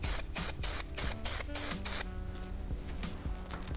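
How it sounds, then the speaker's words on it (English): Hairspray from an aerosol can sprayed onto freshly curled medium-length hair in a series of short, loud hissing bursts, about six spaced evenly, followed by quieter room tone with no voices. "So spray it to hold"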